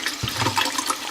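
Deep blue yarn being rinsed in a sink of lukewarm, mildly soapy water, a continuous close wash of sloshing and running water with no talk.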